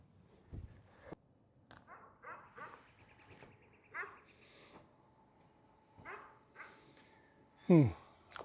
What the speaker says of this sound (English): Of course, we got to deal with the dogs barking.